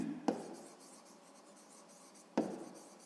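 Pen or chalk strokes of someone writing out a sixth-grade math exercise, heard as two short sharp scratches about two seconds apart against a quiet room.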